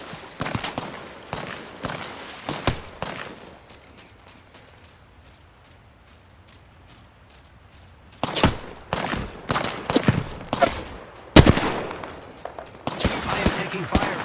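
Rapid gunfire in the battle royale shooter Apex Legends, with quick automatic bursts, a quiet lull in the middle, then dense, louder volleys of shots resuming close by.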